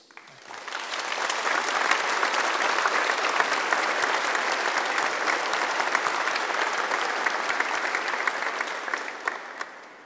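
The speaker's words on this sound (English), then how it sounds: "I would like us all just to take a moment to applaud those who have supported us in so many different ways." Sustained applause fills a university graduation ceremony hall at Bishop Grosseteste University, rising quickly and holding as a dense, even wash of many hands clapping before easing slightly at the end.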